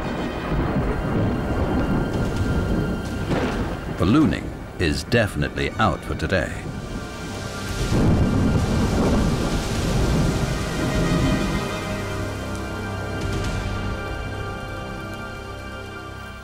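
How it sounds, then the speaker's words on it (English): Thunderstorm over desert dunes in Mongolia, with rolling thunder and steady rain on surfaces; a voice speaks over the storm, rumbles swell and fade, and rainfall continues throughout. "Meanwhile, a storm has gathered outside."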